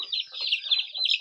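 Hens and roosters cluck on a terrace, a busy run of close, overlapping clucks and calls with no pauses.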